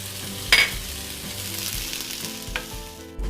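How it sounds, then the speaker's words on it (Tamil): Onions and tomatoes sauté in a pan with curry leaves and salt for a chutney, a steady close sizzle with occasional stirring scrapes and clinks and no voices. "இப்போ இந்த வெங்காயமும் தக்காளியும் பாதி வந்து வதங்கிடுச்சு."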